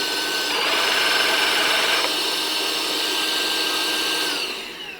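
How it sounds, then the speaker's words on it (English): A cordless drill runs with a Bosch GDE 18V-16 dust extractor attached and vacuuming, a loud steady whine with a high tonal hum that shifts pitch partway through and winds down at the end. "when I activate the drill, it starts vacuuming"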